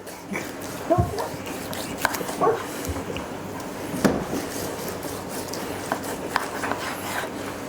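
A dog barks a few scattered times, short yips and woofs spaced apart, over a steady background hum.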